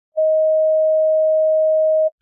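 A pure sine tone pitched at D in just intonation holds perfectly steady and loud for about two seconds, starting and stopping cleanly with silence around it.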